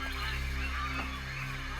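Agitated birds honk and call continuously over a steady, dense background in a woodland scene where trees are being cut.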